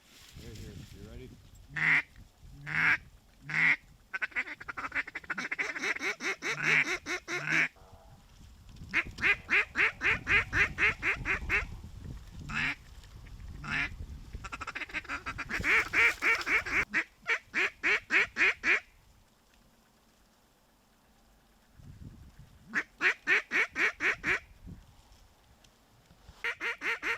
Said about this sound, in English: Oh, there is ducks.